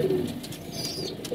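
Pigeons give soft, low cooing over steady background hiss, faint and continuous, with no voices.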